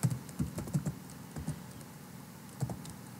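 Keys clack on a computer keyboard in short, close bursts of taps with pauses between them, fairly quiet in a still room.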